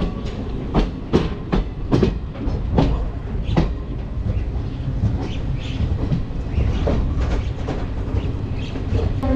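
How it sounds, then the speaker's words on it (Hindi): An express train rolls into platform 4 at Ernakulam station after rain, loud wheel clacks and sharp rail knocks crowding the first seconds, then easing into a steady rumble as it slows alongside the platform. "फाइनली हमारी ट्रेन आ गई भाई एर्नाकुलम के प्लेटफॉर्म नंबर 4 पे।"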